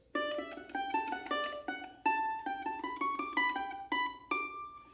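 Bright plucked mandolin notes played with a proper mandolin pick in a quick melodic run, each pick attack crisp and ringing, close and clear with no voices.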